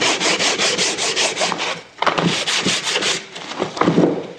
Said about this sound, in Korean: 이렇게 잡고 이렇게 사포질을 하는 방법도 있습니다